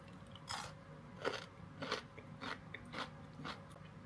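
Crunchy bites and chewing of a home-cooked Korean meal of woo-geoji galbitang with sliced cabbage, about six distinct crisp bites spaced roughly half a second apart, close and fairly quiet, with no talking.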